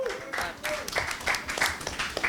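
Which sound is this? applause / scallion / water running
applause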